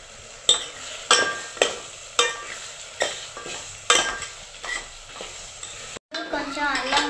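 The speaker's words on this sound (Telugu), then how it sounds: "టమాటాలు, ఉల్లిపాయలు, పచ్చిమిర్చి ఉడికినాక అల్లం పేస్ట్" Tomatoes, onions, green chillies and ginger paste fry in a pan with a steady sizzle. A spoon scrapes the pan in regular strokes, and a voice joins briefly near the end.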